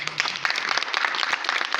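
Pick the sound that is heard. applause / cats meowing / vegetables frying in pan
applause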